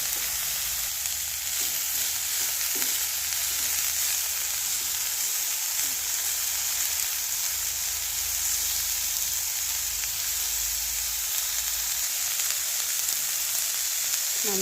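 Chopped tomato and salt sizzle steadily in a frying pan while being mixed, with a continuous hiss of frying and a few soft knocks of a utensil stirring against the pan.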